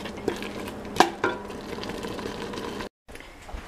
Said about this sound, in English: put the temperature in low, let it simmer